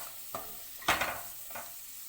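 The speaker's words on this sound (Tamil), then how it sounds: "சேர்த்துட்டு இப்போ இதை எல்லாத்தையும் நல்லா கலந்து விடுங்க" A spatula stirs vegetables in a pan for egg fried rice, a few soft scrapes with one louder scraping sweep amid a faint sizzle, close and without talk.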